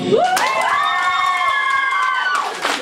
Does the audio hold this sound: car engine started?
no